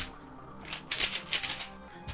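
Plastic game chips clatter and rattle together as they are shaken in a bag, a few quick clicking bursts close by over about two seconds.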